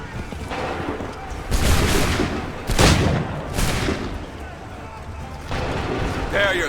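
Gunfire volleys in the video game Assassin's Creed 3, heavy booming bursts that swell out of a steady battle din, with a couple of louder blasts standing above the ongoing noise.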